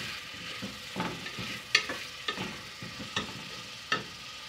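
Onions frying in a pan until light brown, a soft steady sizzle broken by several sharp spatula scrapes and stirring knocks at irregular intervals.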